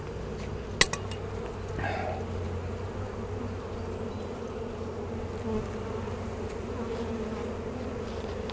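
Honeybees buzz in a steady, close swarm-like hum during a beehive inspection, with a couple of sharp clicks of hive tools early on and no talking.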